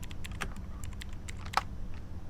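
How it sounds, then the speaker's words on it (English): Fast, furious typing on an unplugged computer keyboard in the video game A Place Forbidden, a quick run of light clicking keystrokes that stays faint and close, with no talk. "It's not plugged in, but I'm typing on it like a furious person."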